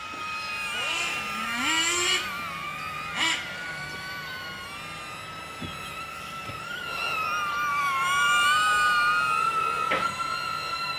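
1/10 scale off-road RC cars race around the BRCA track, their electric motors whining and sweeping up and down in pitch, some passes near and others farther off, over a steady outdoor background.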